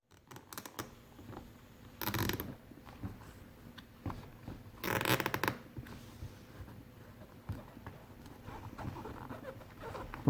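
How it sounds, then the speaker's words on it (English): A zip tie is pulled tight around a helmet headset boom. Two short, loud ratcheting zips stand out, with quiet handling clicks and rustles between them. "I'm going to put the boom right on here like this, and I'm going to zip tie it tight."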